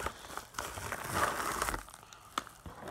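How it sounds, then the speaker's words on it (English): A plastic shipping package holding sports cards gets torn open by hand, with a rapid crinkly ripping and rustle lasting several seconds, close and fairly loud, ending in a few sharper tears. "so just ripped the package."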